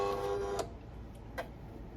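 A craft cutting machine loads a mat carrying HTV vinyl, a short motor whir with a couple of soft clicks, close and quiet.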